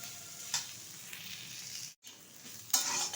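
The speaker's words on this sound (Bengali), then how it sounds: "একটু কড়া কড়া করে ভাজবো" Chopped mixed greens fry in hot oil in a pan and are stirred around, with a steady soft sizzle broken by sharper scraping bursts of the spatula against the pan.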